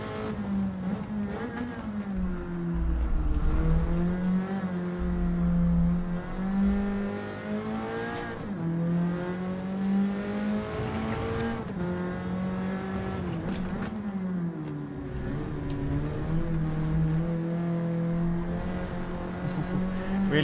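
Engine of a Nissan Silvia racing in Gran Turismo 7 drones steadily throughout, rising and falling in pitch as it revs through gears and corners, loud and continuous with some tire noise.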